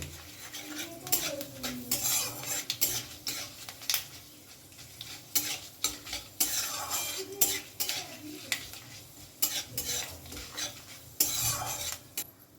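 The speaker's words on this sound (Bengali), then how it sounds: "দিচ্ছি শুকনো লঙ্কা আর দেব পাঁচ ফোড়ন ফোড়নটা একটু নাড়াচাড়া করে নেব" Dry red chillies, bay leaf and panch phoron stir-fried in hot oil for a vegetarian mixed-vegetable dish: a steady sizzle under irregular scraping and clattering of a spatula against the pan, close and continuous, with no voices.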